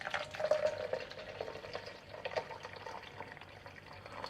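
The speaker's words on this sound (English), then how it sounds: "we are now adding 150 milliliters of fish stock to the diced tomatoes" Fish stock, about 150 millilitres, is poured over diced tomatoes for gazpacho. It makes a soft, close liquid splash and trickle that is loudest at first, then settles into a faint, quiet pour.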